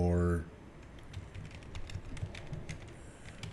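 Keys clatter in a quick, uneven run on a computer keyboard as a ChatGPT prompt is typed, close and fairly soft, following a brief tone at the start.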